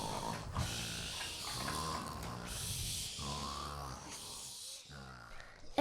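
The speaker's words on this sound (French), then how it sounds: "mais il ronfle beaucoup trop fort" Repeated snoring snorts and grunts in a steady rhythm, fairly loud and close, layered over a busy background of music-like tones.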